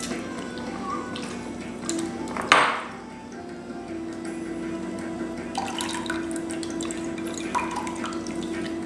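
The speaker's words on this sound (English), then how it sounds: "I'm just going to add very little water." A short pour of water splashes into tamarind in a container, followed by quieter dripping and faint clinks against a steady background hum.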